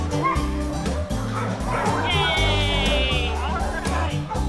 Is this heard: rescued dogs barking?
yes